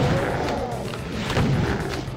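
Shotgun fire in the video game Doom 2, heavy booming blasts repeating amid game action, loud and close with a roughly steady rhythm.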